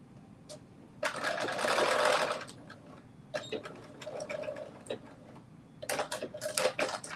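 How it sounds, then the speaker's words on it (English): Sewing machine running a seam again on a New Look 6780 garment, with a dense whir in one sustained burst, then softer short runs and clicks, close by with no talk. "I'm just going to sew this again."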